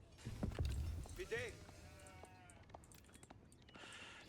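A sheep bleats once in Age of Empires IV, followed by a few faint clip-clop sounds and soft game effects, with a voice talking throughout.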